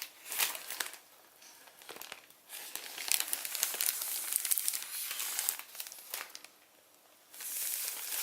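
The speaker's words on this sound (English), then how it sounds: "we're going to fold this flap over to the left" Origami paper being folded into a Pegasus model, a flap pressed over to one side, giving crisp crinkling and rustling in several bursts separated by brief quieter pauses, close and clear.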